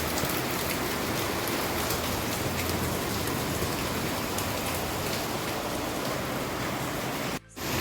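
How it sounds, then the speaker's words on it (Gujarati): Rain falls on a balcony as a steady, dense hiss of drops, loud and continuous throughout, cutting out briefly near the end, with no talk. "બાલ્કનીમાં વરસાદ આવે છે"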